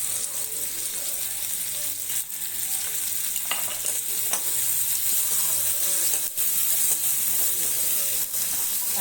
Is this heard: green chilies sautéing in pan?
yes